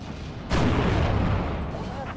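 An artillery battery fires a salvo in the World War II strategy game Steel Division 2, a single heavy boom with a long rumbling tail following a faint room tone.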